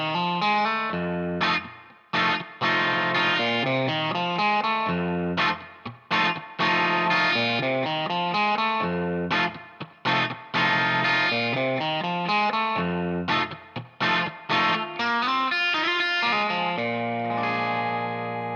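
Distorted electric guitar plays a bluesy lick over the one chord of a blues, capo on, with thick, fuzzy tone and a touch of chorus and echo, busy phrases broken by brief pauses.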